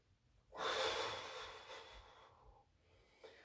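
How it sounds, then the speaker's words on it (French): One deep, audible inhale through the nose during a guided breathing exercise, starting abruptly and tapering over about two seconds, followed by a faint short breath at the end, close and quiet. "Inspirez."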